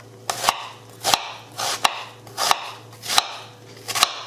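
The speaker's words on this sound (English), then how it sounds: "you cut it down the middle, down the middle, and you just chop it like that" A knife chopping a halved onion on a board, six sharp, evenly spaced chops about every 0.7 seconds, close and crisp, with no voices.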